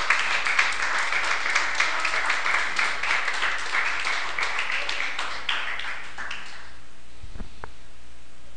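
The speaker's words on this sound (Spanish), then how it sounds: "Denle un fuerte aplauso al Señor en esta hora." A congregation at a church service claps loudly in sustained applause with distinct individual claps, then the clapping stops abruptly and leaves near silence with a faint thump.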